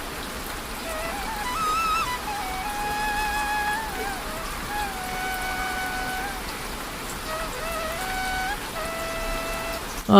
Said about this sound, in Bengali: আরে ভাই, এত বৃষ্টি আর ভালো লাগে না।